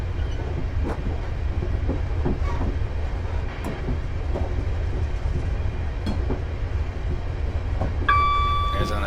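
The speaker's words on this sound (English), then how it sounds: "There's another train heading away." A train in the Train Simulator 2016 game, on the Glasgow Airport Rail Link route, rumbles past with a steady broadband roar and faint rail clicks, ending with a brief tonal horn-like note.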